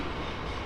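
A train rolling through Basingstoke station on the South Western Main Line, a brief burst of steady broadband rumble and rail noise, close and loud with no talk.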